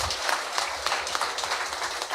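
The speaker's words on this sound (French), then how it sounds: "vous allez l'applaudir de nouveau" An audience at a 2024 company awards event applauds a newly promoted national education inspector, steady dense clapping at moderate, slightly distant level with no talk over it.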